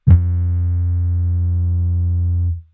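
A single processed bass note from a beat built in Ableton Live, with added plugins giving it a fuzzy, gritty, retro tone; it sustains loudly and steadily for over two seconds, then cuts off, with no talking.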